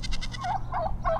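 A turkey in a backyard flock with a rooster and hens gives three short, rapid gobbles, close and fairly loud, over low rumbling background noise.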